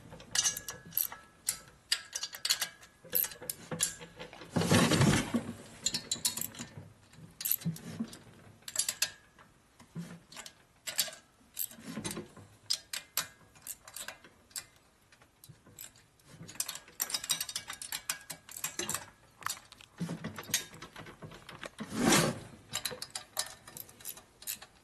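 A ratchet wrench clicks steadily while head bolts are torqued down on a 1979 Harley-Davidson Shovelhead 80ci engine during a rebuild, with repeated bursts of pawl ticking and a few louder knocks, close up with no talk.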